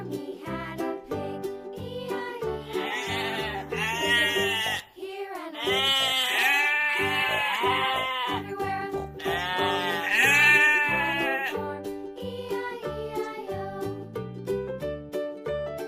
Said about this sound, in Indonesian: Domba.